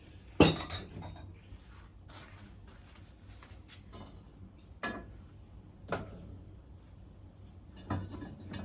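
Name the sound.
ceramic bowls clinking while unloading a kiln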